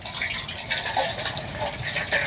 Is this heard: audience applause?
no